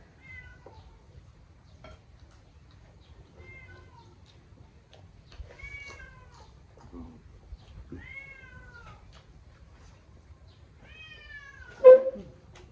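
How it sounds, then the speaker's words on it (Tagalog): A cat meows several times near a lunch of sinigang and fried fish, the calls soft and scattered, ending with one louder, sharper meow near the close. "Ito man ang pusa na yan."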